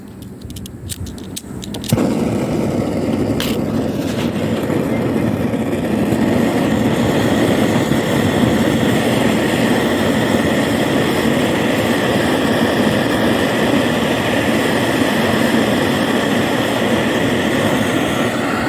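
A faulty BRS-8 multifuel stove being run on gas gives a steady, fairly loud roaring hiss of the gas burning, which starts abruptly after a couple of seconds of quieter clicks and handling noise.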